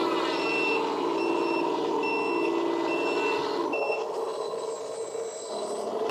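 A LESU 1/16 scale RC hydraulic dumper gives off steady, evenly spaced reversing beeps over a constant motor and pump whine. The sound is close and continuous, and it eases slightly near the end.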